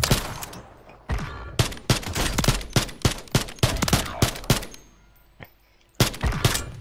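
Repeated shotgun blasts in the Call of Duty video game, loud and close, fired in quick irregular bursts with short gaps, with no talking over them.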